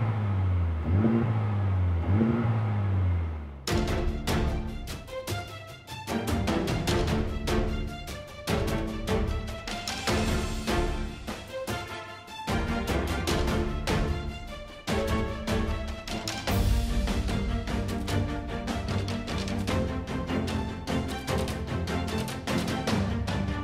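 A 2018/2019 Honda Civic Type R FK8 revs hard and accelerates, its loud engine note climbing and dropping through repeated gear changes, preceded by a few rising revs before full acceleration.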